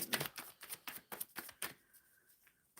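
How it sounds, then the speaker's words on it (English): Tarot cards being shuffled in a steady run of soft riffling bursts, close and fairly quiet, tapering off toward the end. "Shuffling for Susan Gonzalez."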